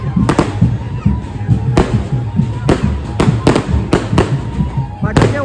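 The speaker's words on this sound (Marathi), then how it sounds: "फटाके वाजतात आहे बघा" Firecrackers go off close by during a village palkhi procession on a road in Juhu, a dozen or so sharp loud bangs at irregular intervals over a dense festive crowd din with voices.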